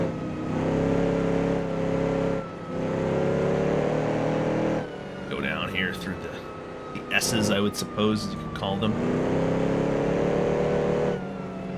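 A 1934 Alfa Romeo P3 straight-eight race car engine in Assetto Corsa drones and shifts pitch through corners, with someone talking over it and brief screechy tire or gear noises midway.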